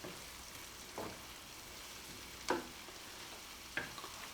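Garlic frying in a pan for a garlic lemon chicken dish, a faint, steady sizzle with a few soft stirring scrapes, heard alone and fairly quiet.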